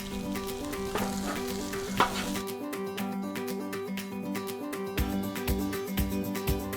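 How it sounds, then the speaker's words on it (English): Food sautés in bacon grease on a Blackstone griddle, with a constant close sizzle and a run of sharp, rhythmic spatula scrapes and taps on the hot steel surface. "get those sauteed up in this bacon grease"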